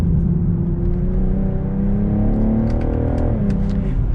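A 2022 BMW M440i coupe, rear-wheel drive, accelerating hard: a steady, loud engine drone rises smoothly in pitch for about three seconds, then briefly dips near the end as if shifting.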